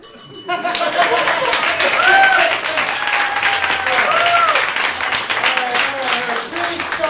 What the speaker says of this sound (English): Really solid applause